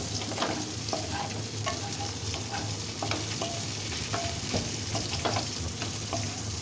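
Teasel gourd pieces stirred in a frying pan after salt and turmeric go in, with repeated close spatula scrapes over a constant bright sizzle and no talking.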